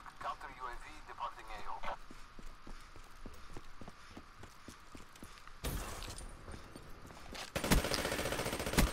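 A PPSh submachine gun in a video game fires from the hip in rapid, evenly spaced shots, then louder bursts near the end, with talk over the gunfire.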